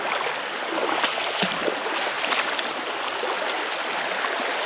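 Creek water runs steadily past, a broad constant rush and trickle close by, with a few small splashes and knocks breaking through the even flow.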